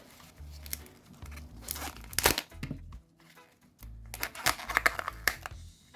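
Kinder Joy packaging crinkles and crackles in quiet, uneven bursts, with soft rustling and a few sharper crackles close to the microphone.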